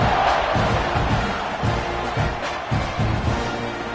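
Stadium crowd at a Gators vs. Texas A&M college football game roars in a broad, sustained wash, with swells and shouts rising through it as the kickoff unit takes the field.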